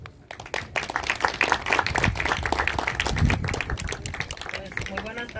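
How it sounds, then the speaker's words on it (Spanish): Lively applause and clapping from a gathering at a family home during a Catholic pilgrimage devotion to the Señor de la Misericordia, continuous with voices talking and calling out through it. "Un fuerte aplauso."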